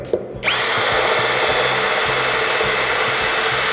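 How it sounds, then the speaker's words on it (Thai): A PUMPKIN cordless impact drill set to level 3 (60 N·m) spins up after a brief pause and runs as a loud, steady, close whine with a rapid rhythmic hammering pulse underneath, and no talk. "การเจาะเข้าเนี่ยตอนนี้ก็คือจะรวดเร็วกว่า"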